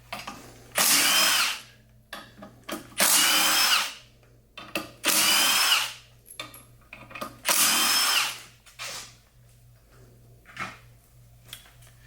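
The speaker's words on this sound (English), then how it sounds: "you're going to need an impact, or you can do it all with a socket. Impact's a lot faster for you." Impact wrench loosening small, short clutch bolts on a 2024 Polaris, heard as four loud buzzing bursts of roughly a second each, separated by brief pauses and clicks, close by with no talking.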